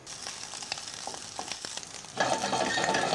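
Bacon lardons, cut into little strips, hit a hot pan and start to fry, a sharp crackling sizzle rising suddenly partway through after a few quiet scrapes and clicks, close and steady with no talking.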